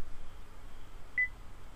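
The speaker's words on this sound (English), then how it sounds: "and it'll beep, and it reset it." A 2017 Duramax truck's dashboard gives one short, thin electronic beep when its oil life is reset, standing out alone above a faint, steady background hum.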